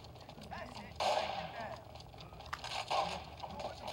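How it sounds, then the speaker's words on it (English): Rapid gunfire in the 50 Cent: Bulletproof video game, bursts of shots crackling over a continuous game soundscape, with a sharper volley near the start and another around the third second, under a voice. "There's a hell of shooting going on right now"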